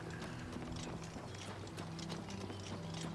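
In the video game Oblivion Remastered, horse hooves clip-clop in a steady, quick rhythm over a low ambient hum, faint and continuous with no talking.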